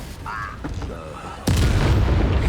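A Confringo fire-blast spell from Hogwarts Legacy bursts with a sudden loud boom and a sustained heavy rumble after a brief stretch of quieter game sounds and effects.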